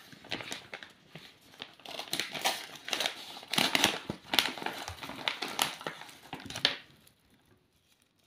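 Small paper-wrapped ginger candy drops are unwrapped close by, with busy crinkling and rustling of paper in irregular bursts over several seconds, tapering off into quiet at the end.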